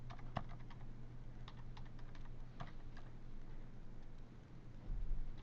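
Quiet, steady typing on a computer keyboard, with a run of soft key clicks against a low background hum and no voice.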